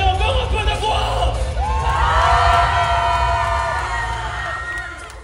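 Audience at a cosplay parade at a Japanese pop-culture festival in Troyes cheers, whoops and shouts, a loud sustained crowd roar that swells midway and stays strong, with some voices standing out.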